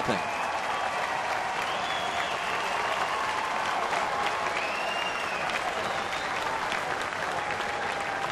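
Sustained applause from a baseball crowd at an Atlanta at Pittsburgh game as Chipper Jones crosses the plate, a steady roar of clapping across the whole stretch with faint crowd noise mixed in.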